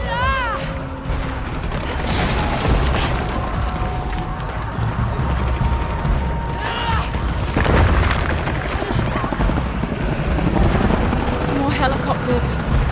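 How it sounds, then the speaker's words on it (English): Helicopters in the video game Shadow of the Tomb Raider, a steady rotor drone running under radio chatter, with booms and gunfire-like bursts mixed in throughout. "More helicopters."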